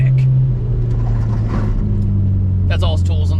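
A Chevy Cobalt SS accelerating, a low engine drone and rumble that shifts pitch partway through, heard from inside the car with a person talking over it near the end.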